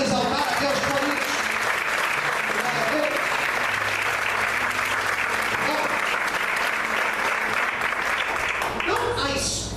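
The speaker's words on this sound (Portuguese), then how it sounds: "Você pode aplaudir e exaltar a Deus por isso." A church congregation applauding during a sermon, sustained loud clapping from many people that fills the whole stretch, with voices underneath and a tapering off at the very end.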